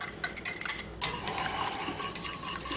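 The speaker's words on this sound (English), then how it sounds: "it's time for us to whisk in our egg yolks before this gets too hot" A whisk works egg yolks into a hot tomato and cheese pie sauce in a pan, with quick metallic clinks and scraping strokes, sharp at first and then a softer steady stirring.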